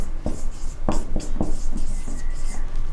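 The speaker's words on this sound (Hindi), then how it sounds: "अब मैं यहाँ लिखता हूँ पटना कॉलेज।" Chalk or marker writing on a classroom board, a series of short scratchy strokes and taps in an irregular rhythm, close and fairly loud with no voice.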